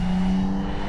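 Near a tea field in Kamagatani Valley, Hanahata, Gifu, a motorbike drones past with a steady engine hum, loud and close for a brief moment, with no talking.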